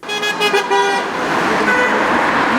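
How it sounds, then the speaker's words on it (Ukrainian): Car horns toot in short repeated bursts from drivers backing a street rally for the armed forces in Poltava, Ukraine, followed by a steady wash of passing traffic noise. "Вони закликали водіїв підтримувати акцію сигналами машин."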